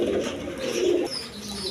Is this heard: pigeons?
yes